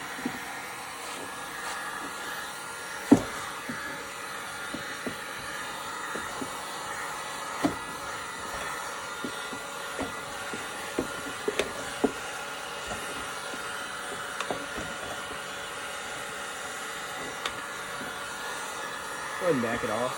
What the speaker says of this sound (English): I've got the heat gun on it while I'm gonna be pressing it out.